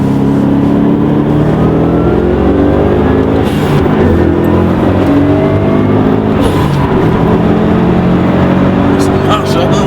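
A Subaru STI's engine drones loud and steady from inside the moving car, rising and falling slightly as it pulls, with people talking over it.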